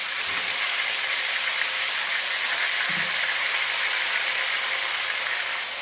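Potatoes and taro frying in hot oil, a steady continuous sizzle and hiss that stays loud and even throughout, with a couple of faint low knocks and no talking.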